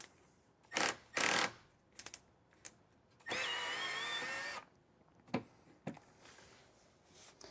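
A cordless power tool loosens square-head screws on a fridge face frame inside a van build, with two short bursts, one longer steady whir, then a few brief blips and light clicks nearby, no talking.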